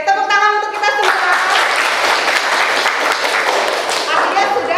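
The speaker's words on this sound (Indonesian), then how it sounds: "Oke, tepuk tangan untuk kita semua." A class clapping hands together in a classroom, dense and loud group applause that follows a brief sung or chanted phrase at the start, then continues steadily to the end.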